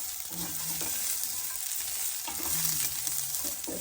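Green beans sautéing in oil with curry leaves and green chilies, a close, steady hiss and sizzle with a few soft stirring scrapes against the pan.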